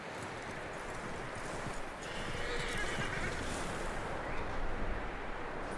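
A horse in Red Dead Redemption 2 neighs amid a loud, steady game ambience of rustling and wind-like noise, its whinny only faintly standing out.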